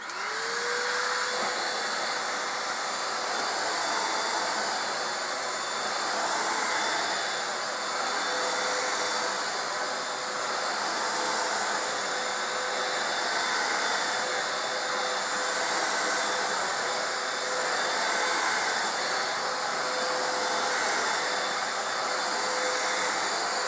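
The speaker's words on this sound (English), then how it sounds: "Next up is the Dibia stick vacuum." A Dibia stick vacuum cleaner runs continuously, a steady high-pitched motor whine with airy rush that spins up at the start and holds level throughout, close and loud with no talking.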